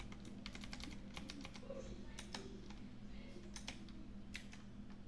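Rapid clacking keystrokes on a computer keyboard as a folder name is typed, steady close clicks in short bursts over a low background hum.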